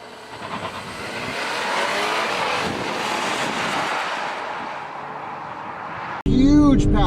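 A Volvo V60 T8 Polestar hybrid accelerates hard around a race track, its engine note building through the gears under heavy wind buffeting, then a sudden louder burst of close engine and road roar at the end.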